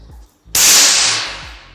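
A single sharp, loud crack of an FX Impact M4 air rifle shot with a hissing burst that fades over a second, after a few faint low thumps.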